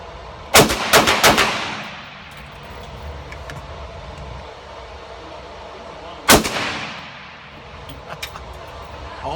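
A carbine fires 5.7x28 rounds from a 20-round magazine, heard as a quick burst of several sharp loud cracks, then a lone shot a few seconds later, each with a fading echo and no talk.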